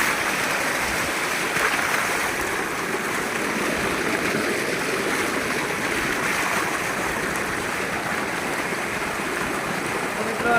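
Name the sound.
flowing water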